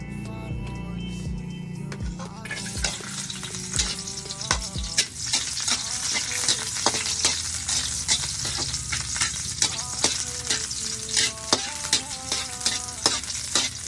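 Hotdogs fry in a pan with a loud, steady sizzle, while a utensil stirs and scrapes against the metal in repeated sharp clatters throughout.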